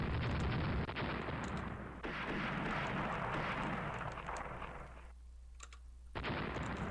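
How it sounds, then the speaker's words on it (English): Heavy warship guns firing in the naval strategy game Rule the Waves, with an Austria-Hungary fleet in battle: a sustained, dense roar of booming gunfire and rumbling blasts, with brief breaks and a fresh loud burst near the end. "we are going to do a slight turn that way to get all of our guns firing on it"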